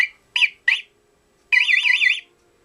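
A motorcycle radar detector, mounted in a tank bag, gives its alarm alone and loud. Three short chirps are followed by a longer warbling, wavering tone.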